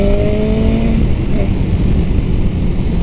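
A BMW 1000RR sport motorcycle with a quick shifter, riding at speed: loud, steady engine roar with a brief rising whine early on, held at close range throughout.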